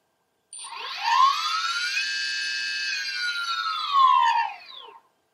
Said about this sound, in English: Here's a basic test with no load on the motor.